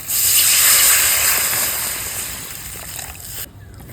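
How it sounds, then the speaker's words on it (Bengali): Water poured into a pan of frying spices and yogurt for a yam kofta curry sets off a loud steaming hiss and slosh that gradually fades, ending abruptly. "এবার আমি জল দিয়ে দিচ্ছি"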